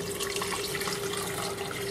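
Tap water runs steadily into a pot for chicken and dumplings, a continuous close splashing stream for two seconds with no talk.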